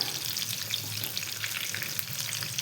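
Ridge gourd fritters (bhaji) bubble in a pan of oil with a dense, even, crackling sizzle that holds steady and close throughout, with no voices.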